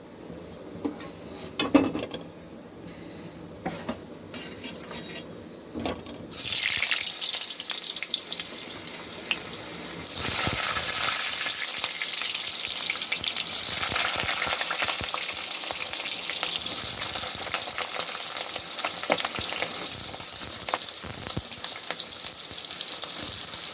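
Oil heats in a pan and breaks into a loud, continuous frying sizzle after a few seconds of quieter clatter, crackling close by with stirring noises throughout.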